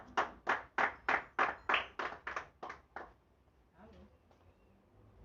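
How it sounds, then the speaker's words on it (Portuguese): A church congregation claps for Jesus in an even, bouncy rhythm, about ten loud claps close together, then the clapping stops and only faint room noise remains. "palmas bem alegres para Jesus"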